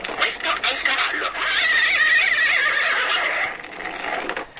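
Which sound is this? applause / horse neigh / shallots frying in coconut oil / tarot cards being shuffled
horse neigh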